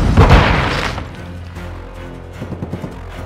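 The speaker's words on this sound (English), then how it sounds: "Throwing flash grenades!" A flash grenade bursts with a loud booming crack in Call of Duty Modern Warfare II, then fades into ringing tones with a few small thumps trailing after.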